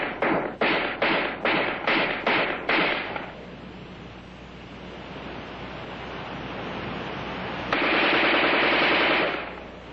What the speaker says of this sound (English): In offhand firing against a man-sized target at combat range, the AR-10 is in a class by itself.